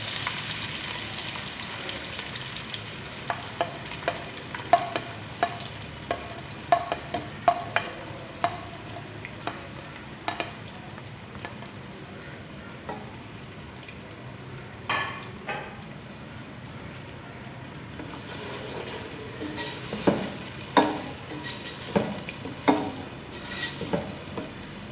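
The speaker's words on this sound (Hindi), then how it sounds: "यहाँ पे प्याज को हम नरम कर लेंगे, ब्राउन नहीं करना है आपने।" Finely chopped onions frying in a pan for Shinwari keema karahi, a steady low sizzle broken by frequent spatula scrapes and stirring clatters that cluster near the end.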